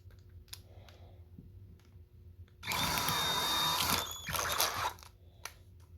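An electric drill runs in a workshop where a wooden minnow fishing lure is being made, starting with a sudden loud whir, then a brief stop and a second shorter burst, with faint clicks between.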